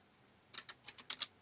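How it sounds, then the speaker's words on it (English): A short burst of about six crisp keystrokes on a computer keyboard, quiet and close, irregularly spaced over roughly a second. "So I'm going to type that in."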